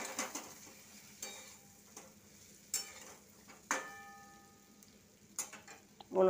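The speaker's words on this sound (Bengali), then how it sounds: "ওলট পালট করে সুন্দর করে নেড়ে চেড়ে ভাজা করে নিতে হবে মশলাটা।" Half-boiled potatoes tossed in a pan with coriander-cumin powder, giving a soft, steady frying hiss broken by irregular spatula scrapes and light clinks against the pan, fairly quiet and with no talk.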